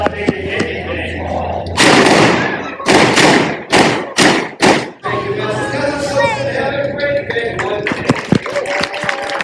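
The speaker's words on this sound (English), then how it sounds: "That first shot made me jump, I'm not even kidding." A Deadwood shootout reenactment at an outdoor Old West town, with a series of five or six loud, sharp gunshots in quick succession amid crowd noise and background chatter.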